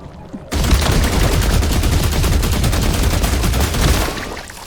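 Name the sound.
gunfire in the video game The Last Caretaker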